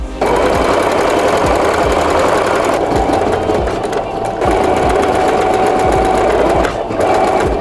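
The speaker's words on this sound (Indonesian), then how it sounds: "kita akan menjahit sekelilingnya ya" Sewing machine stitching around the edge of a rectangular canvas bag pocket, a loud, close, rapid mechanical chatter running in bursts with a couple of short pauses.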